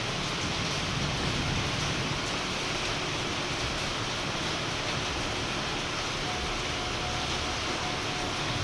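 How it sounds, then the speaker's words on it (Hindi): Heavy rain falls outside a stopped Vande Bharat Express train on the Dehradun–Delhi route, a steady, even hiss with no breaks and no talking. "ये हो रही है बारिश"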